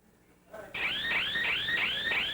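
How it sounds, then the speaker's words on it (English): A Harley-Davidson motorcycle anti-theft alarm starts after a short lead-in and wails loudly and steadily in repeated rising sweeps, about five cycles, with no voices. "If the alarm goes off, they may just decide not to take it."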